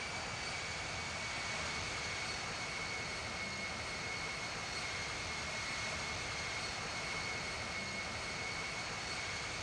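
An airliner's jet engines in flight in the Infinite Flight simulator give a steady, unbroken roar with a thin high whine running through it. The sound stays even throughout, with no voices.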